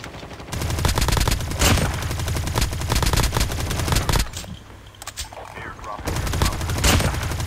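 Rapid bursts of gunfire from the Call of Duty Mobile battle royale mode, dense repeated shots in long volleys with a brief lull midway, loud and close, with faint voices talking underneath.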